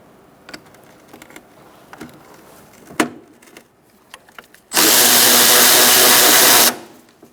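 A brake master cylinder job on a 2004-2009 Mazda 3, with a bolt taken out using a 10mm socket on an extension: scattered clicks and taps, then a loud, steady burst of about two seconds from a power driver spinning it out.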